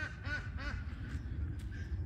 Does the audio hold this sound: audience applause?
no